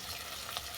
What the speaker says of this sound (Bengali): আলুটাকে আমি বেশ বাদামি করে ভেজে নেব।